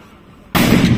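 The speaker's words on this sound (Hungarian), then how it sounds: "Ágyúszó jelezte a tápjóbicskei hagyományőrző tüzérek fegyverbemutatójának kezdetét" Traditionalist artillery reenactors firing a ceremonial cannon shot outdoors at a weapons demonstration, a single sudden loud boom that sustains into a broad rumbling roar after a quiet lead-in.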